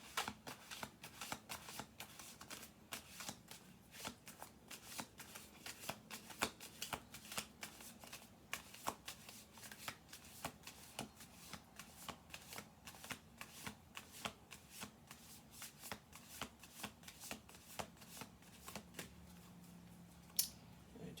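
A deck of tarot cards is shuffled steadily, rapid riffling and flicking repeated over and over, close and fairly quiet.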